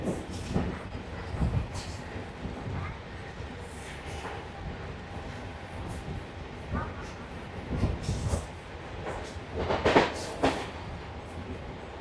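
A MEMU commuter train running from Katwa to Ahmadpur, heard from inside as a steady rumble with rhythmic clickety-clack of wheels over rail joints, loud and continuous throughout.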